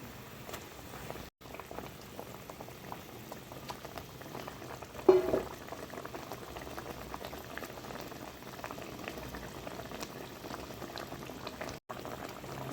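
Katla fish curry with turmeric and chili powder simmering in a pan, a quiet steady bubbling close by with one brief louder stir-like knock partway through.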